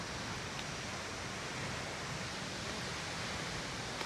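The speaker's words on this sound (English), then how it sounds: "that's Akaka Falls, and you got some mini waterfall over there in the side" Akaka Falls on the Big Island of Hawaii pours down in a dense, unbroken roar of rushing water, steady and enveloping from start to finish, with no voices.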